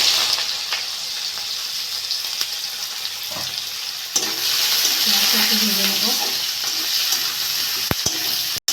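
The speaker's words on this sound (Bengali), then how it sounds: "পেঁয়াজটা ভাজা ভাজা করে নিয়েছি" Onions frying in hot oil with cumin seeds and bay leaves for an aloo motor ghugni, giving a steady close sizzle with stirring scrapes and a brief louder burst midway.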